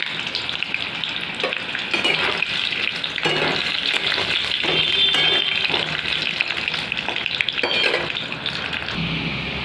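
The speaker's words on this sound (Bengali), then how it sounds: "আলুগুলো একটু লাল লাল করে ভেজে নিই।" Parboiled potatoes frying in hot oil in a pan, a loud, steady sizzle with occasional clinks and stirring scrapes, no talking.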